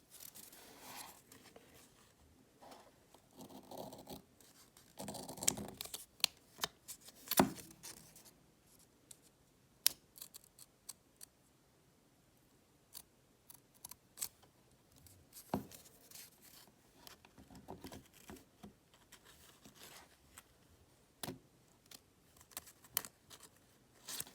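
Scissors trimming the edges of regular printer paper for custom Lego decals, a scattered series of quiet, crisp snips and paper rustles close by, with no talk.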